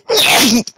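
A single sharp, loud sneeze bursts out close up, followed by a faint short breath.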